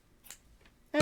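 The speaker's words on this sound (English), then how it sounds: "and cut my yarn." Scissors snip through crochet yarn in two quick, faint cuts close by, followed at the very end by a voice starting to speak.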